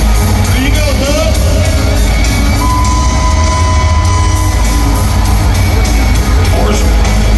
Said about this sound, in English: Old family's here cheering him on.